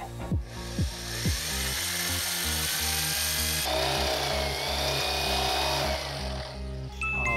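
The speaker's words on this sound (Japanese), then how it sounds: "ドリルで一回一回全部これ全部揉んで" A power drill whirs steadily while boring a series of holes in a Honda Beat's car body panel during a restoration, with the pitch dropping at each bite into the metal and clicks between holes.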